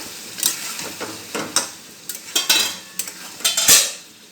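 Bottle gourd being stirred and fried in a pan, with a spoon scraping and clinking against the metal in quick irregular strokes over a soft, constant sizzle, close and clear with no talking.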